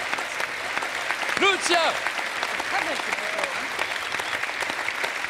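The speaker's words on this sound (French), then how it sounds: "qu'on applaudit très fort" Applause from a TV studio audience, clapping steadily under a voice that speaks briefly.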